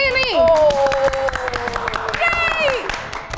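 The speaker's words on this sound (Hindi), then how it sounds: "तालियां बजाओ, मजा आया या नहीं?" Studio audience clapping on a talk show, a scattered patter of applause under loud, sweeping voices and laughter.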